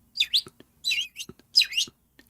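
A voice imitates a bird, producing three bursts of high chirping twitters in an even rhythm with short pauses between them, close and fairly quiet.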